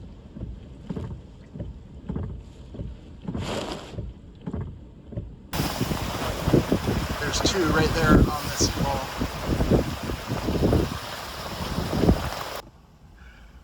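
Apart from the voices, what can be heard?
tropical storm wind and waves around moored sailboat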